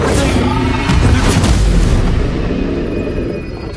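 Fire spell cast in the Hogwarts video game, a loud booming burst with a rumbling low roar that sustains across the clip, with faint game sounds underneath.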